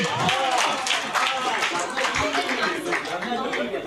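Clapping from members at a club general body meeting quiz after a correct answer, a dense burst of hands applauding with a murmur of crowd voices and some talk mixed in, close and fairly loud.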